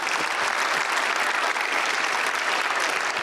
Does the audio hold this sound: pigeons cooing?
no